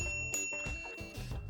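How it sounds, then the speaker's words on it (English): Bell on a Ride1Up Portola 02 folding e-bike, struck several times in quick succession with bright metallic rings that overlap and linger, close and clear. "On the right side, a bell,"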